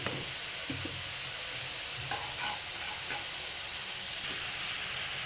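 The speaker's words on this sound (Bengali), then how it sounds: "মশলা ভাজা হয়ে গেছে" Spices such as coriander and chili powder fry in a pan with salt, giving a steady close sizzle with a few scraping stirs and no voices.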